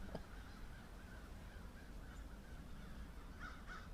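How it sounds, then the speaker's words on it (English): Faint, distant caws from crows repeating over a low, steady outdoor background. "Big ravens or crows."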